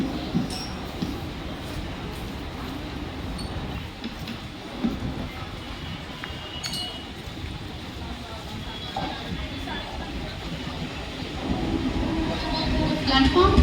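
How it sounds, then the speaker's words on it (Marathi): A Mumbai local train, a slow service bound for Thane, pulls in at platform 1 of Vikhroli station with a continuous heavy rumble and clatter of carriages. Crowd voices sound faintly underneath, and the noise swells toward the end. "प्लॅटफॉर्म क्रमांक 1 वर आलेली लोकल"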